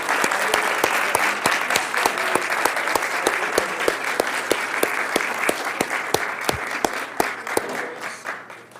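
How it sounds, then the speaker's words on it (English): An audience claps steadily for the judges at a university case competition on social responsibility, with dense, sustained applause over about nine seconds, a few sharp individual claps standing out, and no one speaking. "can we all give a round of applause to our judges?"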